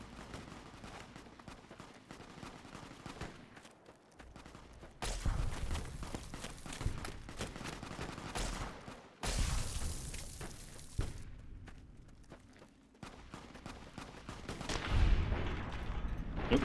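Gunfire in the Fallout video game, a 12-gauge shotgun among the weapons, comes as bursts of shots and rattling fire at moderate distance, with loud stretches between quieter gaps and no talk.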